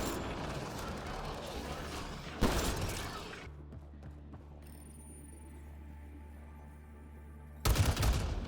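Gunfire in a Mass Effect Andromeda video game cutscene, a rattling burst of shots and mechanical clatter, a quieter stretch, then another loud sudden burst at the end.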